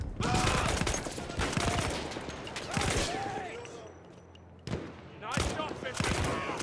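Battlefield 1 gunfire crackles in rapid bursts and sustained volleys, loud and close, with battlefield voices and shouting mixed into the chaos and a brief lull before shooting resumes.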